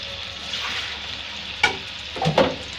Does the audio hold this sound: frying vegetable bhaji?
yes